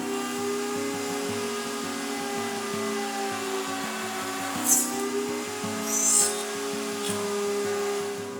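A Multi-Router cuts pins in a wood workpiece, a steady motor whine running throughout with a few brief louder bursts as the bit bites into the wood.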